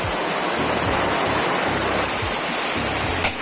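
Steady rain and running water outdoors make a continuous, fairly loud wash of noise with no pauses, heard alone.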